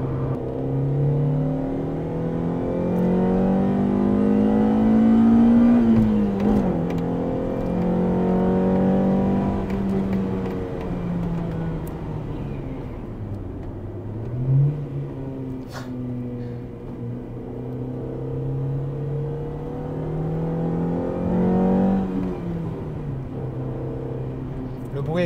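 A 1991 Honda CRX VTEC engine screams and climbs in pitch, dips, then winds up again, loud and sustained throughout.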